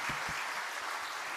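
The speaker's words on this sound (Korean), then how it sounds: "박수 한번 합시다." Brief, fairly quiet applause from a church congregation at a Friday late-night prayer service, a soft, even patter of many hands filling the short moment without any voices.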